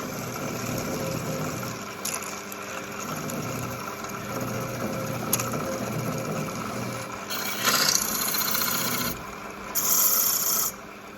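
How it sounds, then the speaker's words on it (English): Steady rasping of sandpaper rubbed back and forth on turned wood for captive rings, close up, with a few louder, brighter scrubbing bursts toward the end. "So we just require a little bit of sanding."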